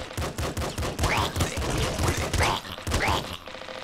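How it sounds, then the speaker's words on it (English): Rapid repeated gunfire in the Nuclear Throne video game, a loud dense stream of evenly spaced shots lasting several seconds, with a few rising whooshing effects mixed in. "Just keep shooting."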